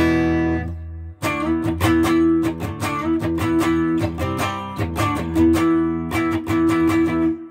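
Clean electric guitar through an amp with the pedal bypassed plays a rhythmic riff of short, crisp strummed chords and ringing notes after a brief pause, close and without talk.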